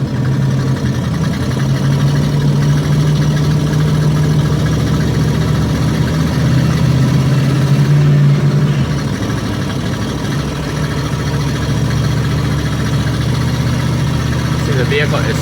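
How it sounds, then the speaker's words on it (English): An RV engine labouring while driving through Orlando traffic gives a loud, continuous low droning rumble with steady road noise throughout, while someone speaks over it. "see, the vehicle is struggling. It is struggling."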